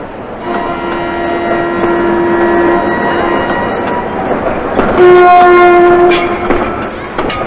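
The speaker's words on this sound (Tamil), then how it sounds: "ட்ரெயின் புறப்பட போதா" A train at the Chennai Egmore station platform, loud and close, rumbling with a long, sustained horn blast that sounds twice, the second one stronger, and no talking.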